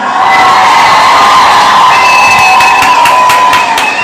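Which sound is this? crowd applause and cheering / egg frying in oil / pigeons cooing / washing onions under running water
crowd applause and cheering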